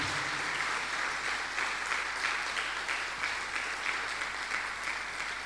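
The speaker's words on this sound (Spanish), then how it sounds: "Dale un aplauso al Señor, amén." A church congregation applauding during a service, with steady, dense clapping throughout and no speech over it.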